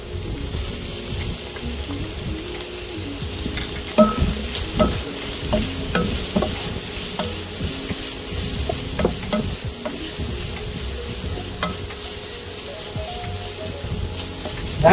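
Hotdog being stirred in a sizzling pot of Filipino chicken sopas, with constant frying hiss under repeated close scraping and clunking of a spoon, a louder knock near the middle, and no speech.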